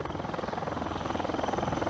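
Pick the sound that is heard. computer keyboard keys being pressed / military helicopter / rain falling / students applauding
military helicopter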